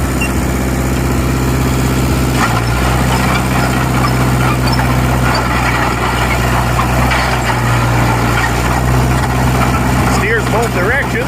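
A John Deere 1010 agricultural crawler bulldozer engine runs steadily at a loud, close idle, with a shift in tone partway through and a voice speaking over the machine.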